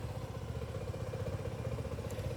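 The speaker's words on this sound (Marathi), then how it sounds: "बाईक लावली आहे कोल्ड स्टार्ट करायला" Motorcycle engine after a cold start, idling with a low, steady rhythmic chug, heard faintly at a distance.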